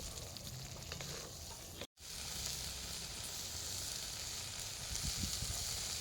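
Spice paste with tomato sizzles steadily as it fries down for a Bengali crab curry, a continuous close crackle with faint stirring, broken once by a brief silent gap.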